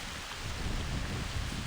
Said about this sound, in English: The raindrops begin to rise.